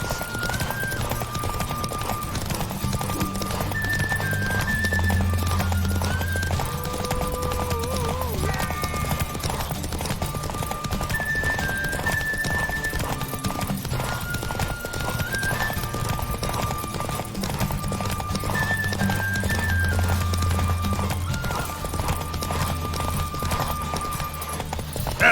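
Roach, Geralt's horse in The Witcher 3, clip-clops steadily with loud, continuous hoofbeats and whinnies now and then, set against a game music bed across the whole stretch.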